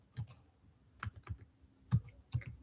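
Computer keyboard typing while code is written, a few close, crisp bursts of keystrokes separated by short pauses, with no voice over them.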